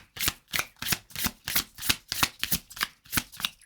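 A deck of oracle cards is shuffled in quick, steady riffles, about a dozen crisp bursts in a regular rhythm, close and clear with no talk.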